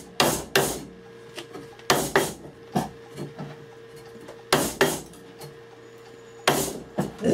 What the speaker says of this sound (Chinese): 到这会儿的时候，应该就能拿凿子掐了